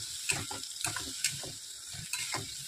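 Spice paste mixed in water goes into frying masala for a raw chickpea curry and is stirred, giving a steady sizzle broken by repeated scraping strokes of a spoon in the pan, close and fairly loud.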